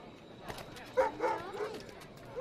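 A dog in the video game Assassin's Creed Rogue gives a few short, fairly quiet barks and yips in quick succession over faint background ambience.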